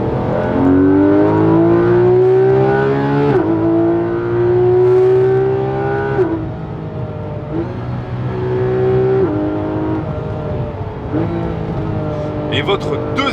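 A Porsche 992 GT3 RS engine revs hard under acceleration, its tone climbing steadily through the gears with brief dips at each shift, loud and close throughout.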